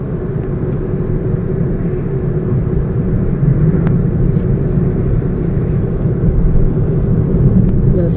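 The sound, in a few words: car driving, heard from inside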